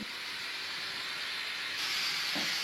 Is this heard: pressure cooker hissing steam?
yes